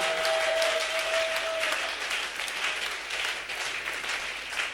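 An audience at a church entrepreneurship gathering applauds, a dense steady patter of many hands clapping close by that thins slightly toward the end.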